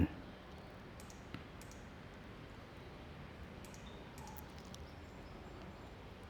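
Computer mouse clicks sound faintly while a WordPress dashboard is being navigated. The few sparse, quiet clicks sit over a steady background hiss.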